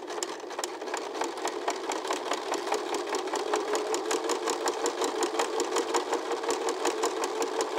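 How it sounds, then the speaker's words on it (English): A sewing machine runs steadily doing simple straight stitching on fabric pumpkin luminaries, a fast even needle rhythm close up and continuous throughout. "This is very, very simple straight stitching"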